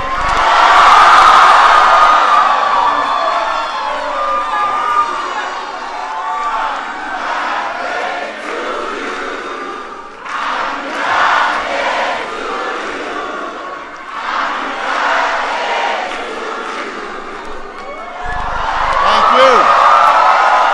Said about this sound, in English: this is a good crowd here